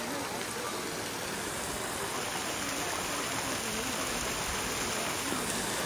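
A water fountain at an outdoor spot in Shimla, Himachal Pradesh, sprays as a steady, even hiss of falling water that fills the scene without pause, with a faint voice beneath it.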